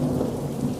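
Heavy rain pouring down in a storm, a dense continuous hiss and patter with a low rumbling undertone, steady and loud throughout with no voices.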